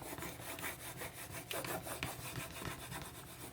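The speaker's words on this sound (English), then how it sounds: "Just need to kind of make sure that you rub everywhere." Steady, close rubbing and scraping as a rub-on furniture transfer is pressed onto a homemade coaster, with brisk repeated strokes running continuously, no talking.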